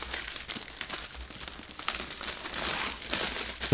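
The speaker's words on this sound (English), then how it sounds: "So I'll take the cellophane off so we can have a look at that." Shrink-wrap cellophane is peeled off the box of a Red5audio RVX6 USB condenser microphone, close, quiet crinkling and crackling in irregular bursts throughout.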